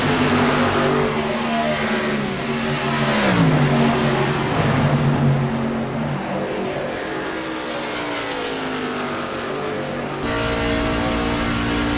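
A race truck engine at full throttle during a truck series championship race at Kansas, loud and sustained, its pitch climbing and shifting through gears as it roars past near the microphone, with other trucks droning behind.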